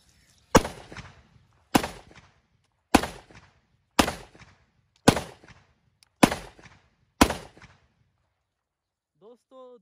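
A 30 bore Zastava pistol fires seven sharp, loud shots at an even pace about a second apart, each cracking and decaying into silence, then a faint voice at the very end.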